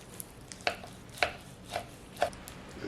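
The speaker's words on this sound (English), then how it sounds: "Cut a slice off right here." A knife cuts through a rested, stuffed smoked pork loin roast in four crisp, evenly spaced cuts, each a short sharp crunch against a quiet background.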